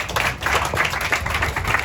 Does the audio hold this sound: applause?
yes